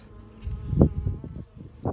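Low, droning buzz of honey bees at a nuc hive, swelling and fading in irregular pulses, close by, with no voices.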